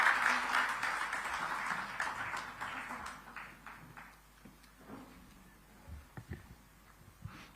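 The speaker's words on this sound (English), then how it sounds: "Can we have one more big round of applause for him?" Applause from a conference audience at the South India Digital Summit, loud and dense at the start and then thinning into scattered claps that fade out.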